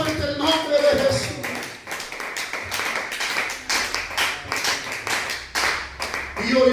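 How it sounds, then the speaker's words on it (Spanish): A church congregation claps loudly during a Spanish-language sermon, with rhythmic, uneven bursts of hand claps rising and dipping, and some voices mixed in underneath. "aplaudan fuerte el nombre de Jesús"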